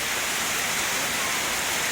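Heavy rain pouring down at a rural garden home, a dense, even hiss of falling water filling the whole moment with no pauses and no voices.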